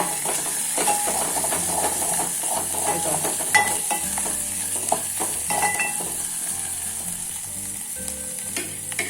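Masala with turmeric stirred in a hot pan, a steady close sizzle of frying with scraping spoon strokes and soft clinks running throughout, fairly loud and even with no talk.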